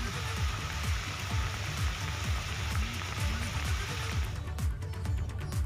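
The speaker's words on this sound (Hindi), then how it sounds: "इटावा में कल से हो रही लगातार बारिश के कारण जगह जगह पानी जमा हो गया है" Heavy rain pours steadily onto waterlogged streets in Etawah, a dense continuous hiss with a low rumbling wash underneath, constant and fairly loud throughout with no voices.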